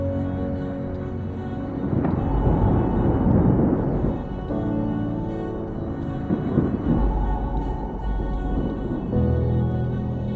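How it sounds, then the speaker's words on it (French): Thunder rumbles from a distant thunderstorm in May, low rolling swells that build and recede in long waves, fairly loud and unbroken by any voice. "Alors que j'admire l'orage tranquillement"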